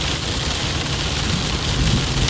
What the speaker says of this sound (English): Oh, listen to that thunder!